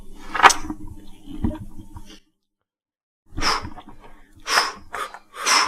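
Deep belly breaths in a relaxation exercise: a couple of long, close breaths in and out, with a short silent pause between the breathing, and no speech.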